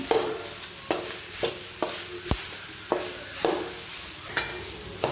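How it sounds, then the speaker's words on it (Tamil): Soya chunks stir-frying in a pan for a village-style spicy fry, a steady sizzle broken by regular scraping strokes of a spatula, close and clear with no talk. "இப்போ நம்ம வந்து கை விடாமல் வந்துட்டு ஒரு நிமிஷம் கிண்டினாலே போதும் ஃப்ரெண்ட்ஸ், மீன் மேக்கர் ரெடி ஆகிடும்."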